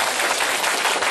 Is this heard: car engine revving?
no